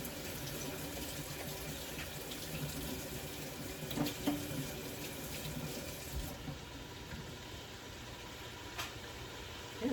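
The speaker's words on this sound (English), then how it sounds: "Rinse them off now." Food rinsed under a running kitchen tap for a chicken and dumplings dinner, with a steady rushing stream splashing into the sink throughout and a few soft knocks and clatters.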